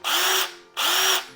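A Ryobi 40-volt brushed drill revs up twice in quick succession, each a loud whining burst of about half a second with a rising motor tone, separated by a short pause.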